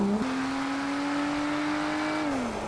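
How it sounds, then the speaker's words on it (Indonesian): A car engine in GTA V revs up quickly and holds a high, steady whining pitch before easing down at the end, loud and close with no talking over it. "Tuh, lebih kencang kan mobilnya kan."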